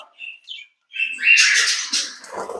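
Short high chirps and squawks from rainbow budgerigars, a few scattered calls followed by a denser burst of chattering, fairly close and moderately loud.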